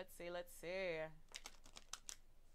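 A person speaks briefly, then a quick flurry of papery clicks and riffles like cards being shuffled, close and fairly quiet.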